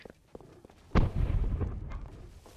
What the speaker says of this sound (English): there's a cannon firing in distance